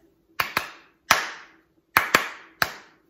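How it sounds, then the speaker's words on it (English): Sharp hand claps in a rhythmic pattern for a children's song, six crisp, close, ringing claps grouped in pairs and singles with a short room echo after each. "this first song I think has a cool clap to it"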